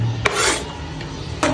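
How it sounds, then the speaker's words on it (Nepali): A knife cutting onions while momo is being made, producing two close, rasping slicing strokes against a board separated by a short pause, with no talk. "अब चाहिँ मैले फेरि प्याज काटिरहेको छु"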